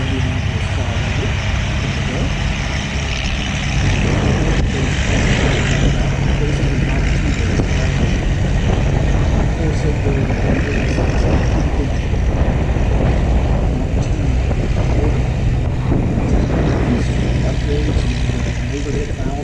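Vintage Ragtime-era race cars, some with overhead valve conversions and two-speed transmissions, roaring around the Indianapolis Brickyard oval in a steady loud engine drone with wind buffeting, while a commentator talks over it throughout.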